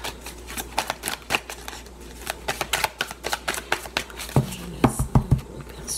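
A deck of tarot cards is cut and shuffled by hand, producing a steady run of quick, close flicks and riffles, with a cluster of heavier slaps near the end.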